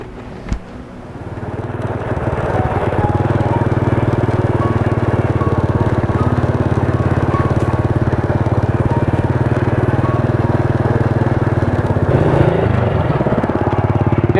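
An old, beat-up motorcycle rides up: its engine builds from near quiet to a loud, steady, buzzing drone that holds close by for several seconds.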